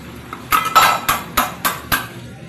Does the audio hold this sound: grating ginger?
yes